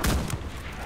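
Gunfire in the World War II shooter Enlisted: a sharp, booming shot followed by a second blast and fading rumble, close and loud, within under a second.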